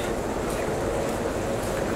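A train stands at platform 4 of Puri station, a steady, dense rumble and hiss of the idling train and station bustle close by, even and unbroken throughout.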